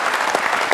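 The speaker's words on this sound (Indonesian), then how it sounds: "kita kasih tepuk tangan dulu untuk Mas Helmi." Studio audience applause on an Indonesian television talk show, a dense, steady wash of many hands clapping at close range with no voices over it.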